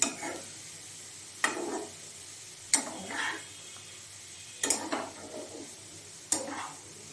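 Grated carrot for carrot halwa is stirred in a pan, producing a few separate bursts of scraping and clinking spaced a second or two apart over a quiet background.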